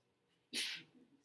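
A single short sneeze bursts out in a quiet algebra classroom, fairly faint and alone against a low room hum.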